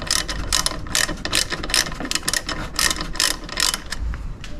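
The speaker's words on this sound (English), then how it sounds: "There's 4 bolts to take this one out" A hand ratchet works bolts loose on an MGB Fantasy 125cc scooter, giving rapid, close, crisp clicking in uneven runs for several seconds with no talk.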